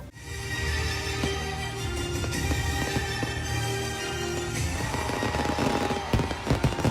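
Dense, continuous crackling and popping bursts of a fireworks display at a giant Christmas tree lighting in Balayong People's Park, Puerto Princesa, loud and sustained, with rapid overlapping bangs throughout.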